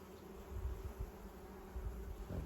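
A steady low insect hum of many honeybees buzzing close by in a hive, continuous with slight swells in loudness and no voices.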